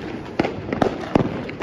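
Diwali firecrackers bursting outdoors, four sharp loud bangs spaced roughly every 0.4 seconds over a faint background.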